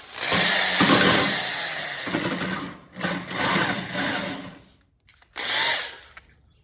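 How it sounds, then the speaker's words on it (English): Power drill boring out a hole in a copper weather vane during restoration, whining in several close, loud bursts separated by short pauses, with no talking. "So I'm gonna grab a drill bit and just try to like hone that out"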